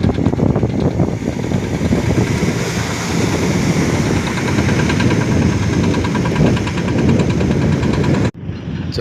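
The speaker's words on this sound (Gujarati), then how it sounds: "સૌજી કાકા બોટિંગની મજા માણી રહ્યા છે જમકોડી નદી પર." A boat engine runs steadily on the Jamkodi river with heavy wind buffeting the microphone. A loud continuous drone holds for about eight seconds, then cuts off abruptly near the end.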